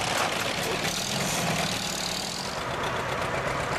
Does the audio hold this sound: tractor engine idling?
yes